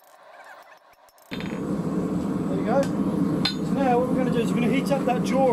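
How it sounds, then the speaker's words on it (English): Hammer strikes on a hot rivet joining a pair of forged scrolling pliers ring out in a blacksmith's shop, with a few sharp metallic hits and squeaks over steady workshop noise after a quiet start. "That way we can hammer on the slightly hotter end."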